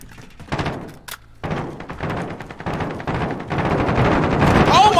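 Call of Duty Warzone gunfire in an online match, a run of punchy shots and thuds that swells into a sustained dense barrage toward the end, heard up close.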